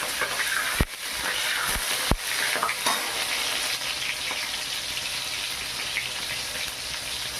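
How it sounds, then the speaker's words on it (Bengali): Chopped tomato and green chilli are stirred into hot oil for a vegetable lentil dish, giving a continuous close sizzle with a few sharp scrapes of a spoon against the pan near the start, and no talking. "এবারে কেটে রাখা টমেটো কুচি আর কাঁচা লঙ্কা এর মধ্যে দিয়ে দিলাম, একটু নেড়ে চেড়ে নিলাম।"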